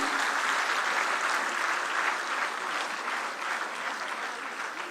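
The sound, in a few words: audience applause bidding farewell to the chief minister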